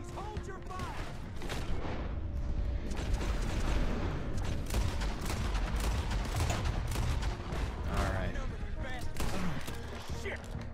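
Rapid gunfire from horseback in Red Dead Redemption 2 cracks steadily through the whole stretch, mixed with dense game music and effects and kept at a constant loud level.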